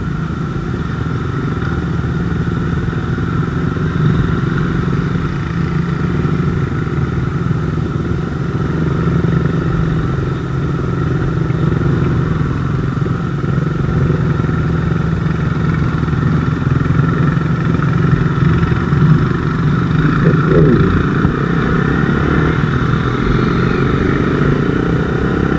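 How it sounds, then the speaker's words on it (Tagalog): Many motorcycles, including Yamaha TFX and Sniper 150 bikes, ride along a Philippine highway under reblocking roadwork, a loud continuous engine drone and hum with no talking. "Ang dami ng mga motor pa uwi babalik ng Maynila."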